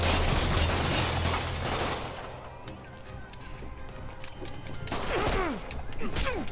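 A volley of gunfire in an animated action scene, rapid overlapping shots in a loud opening burst, easing off, then another sharp round of bangs with ricochet-like whines near the end.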